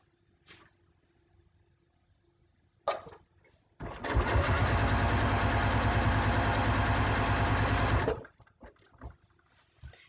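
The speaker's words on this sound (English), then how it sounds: "So sewing along." A sewing machine stitches quilt binding at slower speed, a steady close mechanical whir of rapid needle beats running for about four seconds after a few soft clicks and handling knocks.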